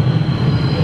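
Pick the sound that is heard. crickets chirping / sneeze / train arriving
train arriving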